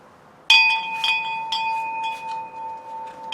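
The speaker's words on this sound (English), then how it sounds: "a bell." A small bell hanging on a handmade gnome house is struck once and rings out with a bright, sustained tone, while lighter clinks and jingles follow as the bell keeps swaying.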